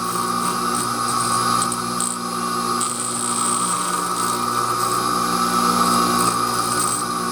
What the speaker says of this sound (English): I'm grinding along the secondary relief there